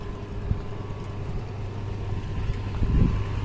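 A water pump motor runs inside a motor room with pipes attached, giving a continuous steady mechanical hum and low drone with a faint tonal whine, heard alone without voices.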